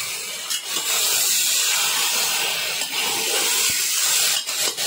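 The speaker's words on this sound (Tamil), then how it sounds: "காய்கறி நல்லா வதக்கிக்குவோம்." Vegetables with asafoetida and turmeric sautéing in a pan for bisibelebath, a loud continuous hissing sizzle with occasional short scrapes and knocks from stirring.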